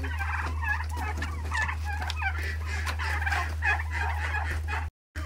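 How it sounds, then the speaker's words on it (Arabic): Several turkeys gobble in bursts of rapid, warbling calls, loud and close, over a steady low hum, and then the sound cuts out abruptly. "باقي الروميات هذي."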